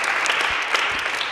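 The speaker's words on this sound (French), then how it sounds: "On va applaudir pour Laurent" Choir concert audience applauds a performer named Laurent, a short, close burst of dense clapping.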